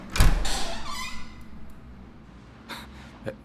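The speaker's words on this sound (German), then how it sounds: "Und dann geht die Tür auf." A door opening after a doorbell ring: a short rattling, sliding thump up close at the start, followed by fading noise, a few softer clicks and breathy sounds near the end.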